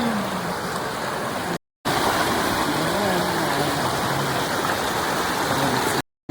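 The Bal Ganga river at Chamiyala in the hills rushes past nearby, a loud, continuous broadband roar of flowing water with no talking, broken only by two brief cutouts.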